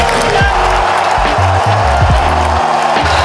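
Crowd at an Oakland Athletics baseball game in the stands, a loud continuous roar of cheering and voices with low pulsing chant-like tones and rhythmic drumming mixed in throughout.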